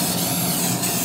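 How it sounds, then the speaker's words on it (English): Steady, continuous hiss of spray paint being applied to a canoe, loud and close, running unbroken with no talking. "I think I'm gonna just spray it on there."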